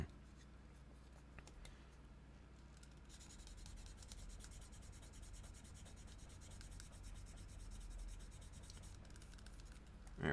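Sandpaper of about 1,000 grit rubbing back and forth across a surface, a soft, continuous scratchy hiss that stays quiet and even throughout.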